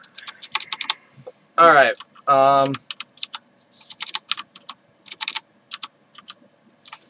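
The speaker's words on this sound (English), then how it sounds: "We're using, like, a legit awesome gaming keyboard in Windows XP right now." A gaming computer keyboard running on a Windows XP machine is typed on in quick irregular bursts of sharp, close clicks, broken by a short stretch of speech.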